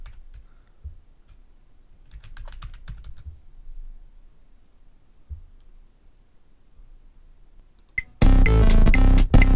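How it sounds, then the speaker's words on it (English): Soft keystrokes on a computer keyboard as a search term is entered, faint and sparse clicks, cut off near the end by a sudden burst of loud 8-bit style music. "So let's type in gaming."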